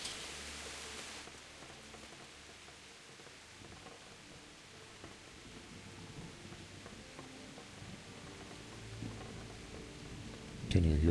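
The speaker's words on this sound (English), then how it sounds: "Can you hear the tapping of rain on the roof?" Rain patters steadily on a roof in the medieval 1403 world of the Kingdom Come video game, a soft, even wash that continues throughout and swells briefly louder right at the end.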